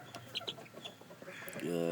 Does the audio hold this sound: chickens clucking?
yes